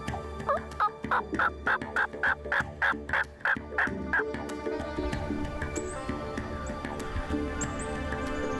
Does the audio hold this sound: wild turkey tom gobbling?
yes